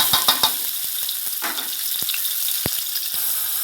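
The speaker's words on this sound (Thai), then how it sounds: "น้ำมันโอลีนหนึ่งช้อนแกงพริกแกงเผ็ดหนึ่งขีดนะคะใส่ลงไปเลย" Red curry paste frying in olein oil in a pan, a steady bright sizzle broken by several sharp crackles and pops, close up with no talking.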